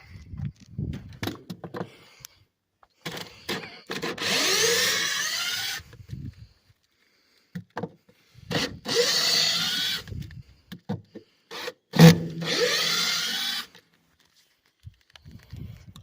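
A power drill backs deck screws out of wooden boards to take them apart, in three separate whirring bursts of a few seconds each with quiet handling and clatter between them, close by and with no talk.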